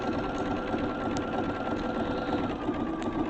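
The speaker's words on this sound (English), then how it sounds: "we're just going to sew on the line as we go round" A sewing machine stitches along a line on an upcycled T-shirt, running in a continuous fast whirring buzz, loud and close, with no voices over it.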